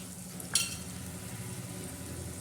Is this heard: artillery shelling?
no